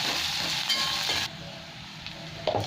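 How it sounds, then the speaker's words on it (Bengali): Long-sliced onions frying in hot oil in a pan give a steady, close sizzling hiss that eases slightly partway through, with a faint clink near the end and no talking. "পেঁয়াজগুলো দিয়ে দিলাম। এটা 1-2 মিনিট ভেজে নেবো"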